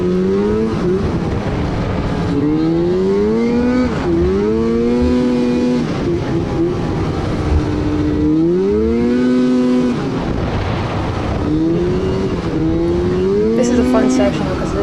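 Long-chassis mountain snowmobile ripping along wide, twisty trails, its engine rising and falling in repeated loud revving sweeps as it accelerates and backs off through the turns.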